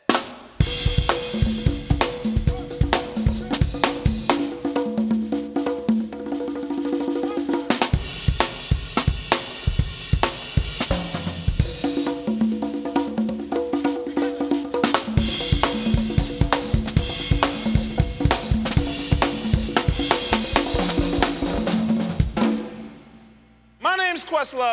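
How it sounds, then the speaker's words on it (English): A drum kit played alongside bongos and congas in a lively upbeat groove on a children's show, loud and continuous with brief breaks, busy hand-drum strokes over a steady beat before ending abruptly. "And when we play them together,"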